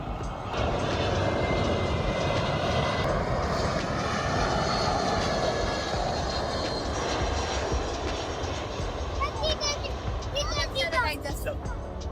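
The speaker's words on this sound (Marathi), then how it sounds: "आता विमान येते बघा तिकडे" A loud, steady airplane engine roar fills the air as an IndiGo aircraft passes overhead at Lonavala, with crowd chatter and birdsong underneath.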